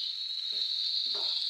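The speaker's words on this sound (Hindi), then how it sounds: "इसे अच्छी तरह से मैं 5 मिनट के लिए फ्राई करूँगी।" Soybean vegetable fries in a pan with a steady high hiss, while two brief spoon strokes scrape through it, close and fairly quiet.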